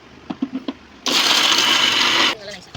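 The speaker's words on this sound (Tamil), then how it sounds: "இப்போ வெள்ளத்தை போட்டு அரைக்க போகிறோம்." Electric mixer grinder grinding jaggery with sesame and rice, a loud dense whir running for just over a second after a few light taps, then stopping abruptly.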